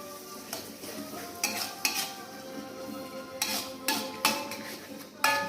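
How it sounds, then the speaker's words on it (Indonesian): Onions cooking in hot oil and margarine in a pan, a low steady sizzle broken by several sharp scraping clinks of a utensil stirring against the pan. "Pertama-tama kita panaskan minyak, lalu kasih margarin, masukkan bawang bombay dulu ya."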